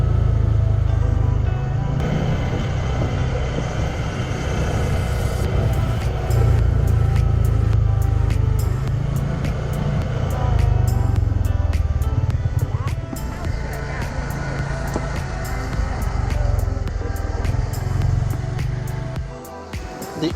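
A quad bike engine drones steadily while riding the dirt tracks of Skopelos island, a loud continuous low rumble with wind noise throughout and a voice talking over it.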